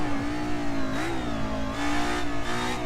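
DTM race car engine in the racing game Assetto Corsa revving steadily with small rises and dips in pitch, loud and continuous with no other sounds.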